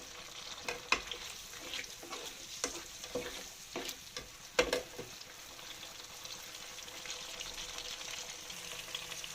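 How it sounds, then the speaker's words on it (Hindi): Onion and tomatoes fry in ghee over a high flame. The sizzle is soft and steady, with a few clinks and scrapes of stirring early on, then it settles into an even crackle. "हमने फ़ौरन इसमें टमाटर ऐड कर दिए हैं और हम तेज़ आंच पे इसको भून लेंगे"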